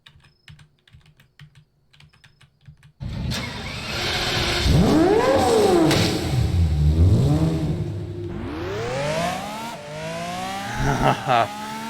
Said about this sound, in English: if you're gonna have an engine sound like that